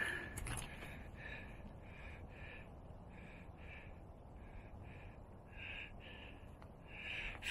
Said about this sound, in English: I forget the name of those birds